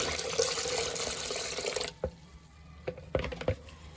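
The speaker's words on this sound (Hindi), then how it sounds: "इसमें मैं 1 गिलास पानी का फिलहाल शामिल कर देती हूँ" A glass of water is poured into whisked yogurt in a kitchen, a close, steady liquid stream for about two seconds, then soft splashes and clinks as it settles.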